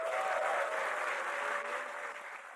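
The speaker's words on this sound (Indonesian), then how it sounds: "Sekali lagi beri tepuk tangan dong buat penonton, yuk." An audience at an Indonesian TV variety show bursts into sustained clapping, a dense, steady wash of applause that fades slightly toward the end.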